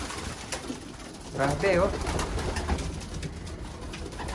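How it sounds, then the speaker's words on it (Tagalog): Racing pigeons in a loft give a brief low coo amid soft background rustle, while a person speaks a short exclamation nearby. "update na rin dito sa mga kalapati"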